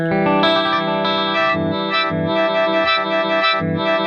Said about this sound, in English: And then I can freeze it where it'll kind of like an indefinite hold, but not a self-oscillation.